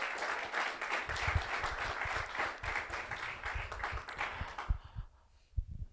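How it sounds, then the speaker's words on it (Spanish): A church congregation applauds during a Palm Sunday service, a dense, steady patter of clapping that holds for several seconds, then thins and fades near the end, with heavier low thumps running underneath. "Dale un aplauso a Cristo."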